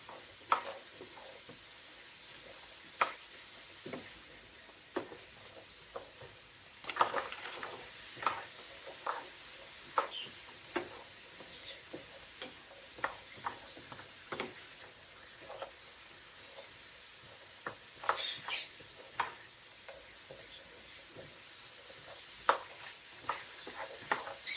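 Frozen mixed vegetables sizzle steadily in a hot pan for pork fried rice, with scattered sharp pops and crackles breaking through a soft, continuous hiss and no voices.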